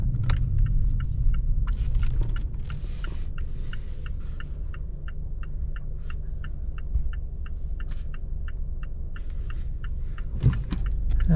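A 2018 Mazda3 Grand Touring pulls out onto the open road, with a steady low engine and road rumble heard from inside the cabin and a faint regular ticking over it.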